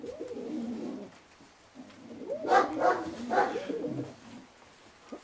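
Domestic pigeons coo softly in a loft, several low throaty calls rising and falling in short bursts, fairly close and quiet with no one talking.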